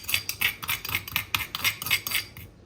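Seeds being crushed in a mortar with a pestle: about ten quick, regular grinding strikes, close and clear, with no voices, ending in a brief quiet.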